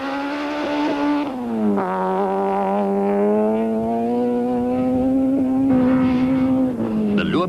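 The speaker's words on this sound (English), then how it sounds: "Driving with just third and fifth gears working, Glenn Derman and Dave Levkowitz press on to" A rally car on a 1995 Castrol International Rally stage, a Mitsubishi Conquest driven with only third and fifth gears working, holds a loud, steady engine drone that sags, rises and shifts pitch as it presses on.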